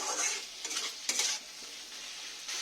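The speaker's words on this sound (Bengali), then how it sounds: "ভালো করে একটু কষে নেবো যাতে চিংড়ির কোনো গন্ধটা না থাকে কাঁচা" Shrimp being sautéed and stirred in a pan for chingri posto, a steady close sizzle with scraping stirring strokes, no voices.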